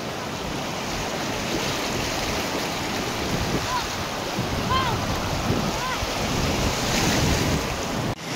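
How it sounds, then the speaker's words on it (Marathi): Sea waves break steadily on a beach shore, a loud continuous wash of surf mixed with wind buffeting the microphone, with brief faint voices in the background. "लाट आली लाट आली लाट आली"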